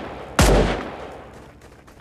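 A single loud gunshot blast from the video game Raider Six bursts suddenly, then a long echoing decay trails off over about a second and a half, with no voices over it.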